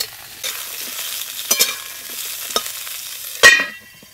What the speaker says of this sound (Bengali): ফুলকপিগুলো খুব ভালো করে ভেজে নেব।